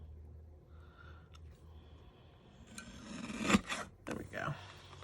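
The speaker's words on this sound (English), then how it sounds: "Trim a little bit off this end as well." Paper for a Valentine's Day slider treat box is trimmed close by, producing a soft rasping rub that builds into a few louder scraping cuts toward the end.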